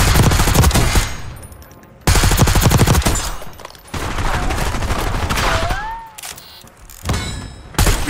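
Intense automatic gunfire in Call of Duty Black Ops 6 multiplayer, with loud sustained bursts broken by short pauses, a few metallic pings, and a dip into quieter distant shots before the firing resumes.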